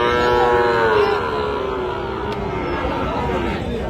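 Young cattle, around seven to eight months old, low and drawn out at a busy Bangladeshi cattle market, with a steady murmur of people and crowd noise around them throughout.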